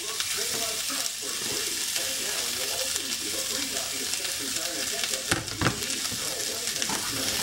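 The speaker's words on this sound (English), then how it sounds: "Just going to stir these up for a second. Fry them up a little bit." Spices fry in hot oil in a pan while being stirred, a steady sizzle with scraping and clinking of the spoon throughout, plus a brief louder clatter near the end.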